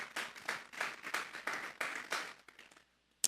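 Church congregation clapping during a sermon as an offering to God, a short burst of rhythmic claps in even pulses that fades out after about two and a half seconds.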